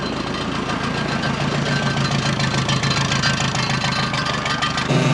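A 4x4 forklift with Dana 70 axles and skid steer tires drives forward under throttle, its engine a steady, close, knocking chug that swells slightly near the end.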